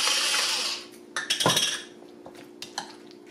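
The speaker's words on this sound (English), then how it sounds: "Mix it all together and it's done." Cucumber salad with dill, pepper and salt is tossed in a bowl: a bright rustling swish, then a run of close clinks and scrapes of a utensil against the dish.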